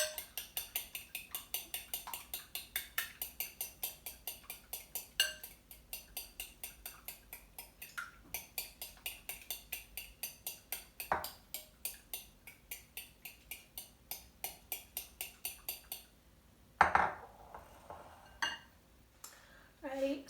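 Cream being whisked into seasoning for chicken wings, a steady rhythmic ticking of utensil against bowl repeating for about fifteen seconds, then a few louder clanks and scrapes.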